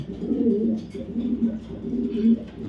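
Racer pigeons on a pigeon farm, low rolling coos repeating in a steady murmur close at hand over quiet background hiss.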